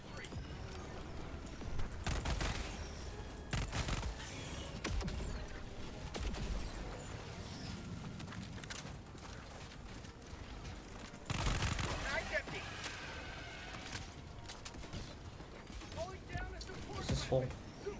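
A deployed sentry turret in the video game Helldivers fires in repeated bursts of rapid gunfire amid other battle noise, with people talking over it throughout.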